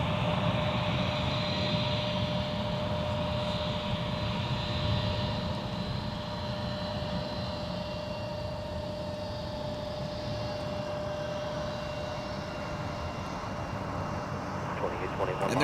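An Endeavor Air regional jet on the Bentonville, Arkansas service at Minneapolis–St. Paul airport gives a steady, moderately distant engine roar with a sustained whine, running evenly throughout.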